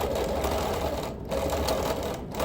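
A sewing machine ditch-quilts a log cabin quilt, running continuously with a fast, even mechanical whir and stitching patter, close and steady throughout with no speech.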